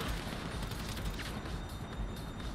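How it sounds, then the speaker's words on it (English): Sustained automatic gunfire from an armor-piercing combat machine gun during a GTA Online Doomsday Heist mission, a dense, steady rattle of shots running unbroken and fairly loud throughout. "This is the combat armor piercing MG that he's just tanking."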